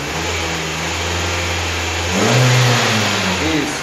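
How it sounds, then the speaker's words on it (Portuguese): A Hyundai Tucson Flex with a faulty lambda sensor idles loudly up close, then its engine is revved, rising into a stronger, higher-pitched roar for a second or so before settling back. "Dá uma acelerada, por favor."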